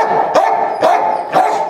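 A dog barks three times at a steady, even pace, loud and close, with each bark short and sharp.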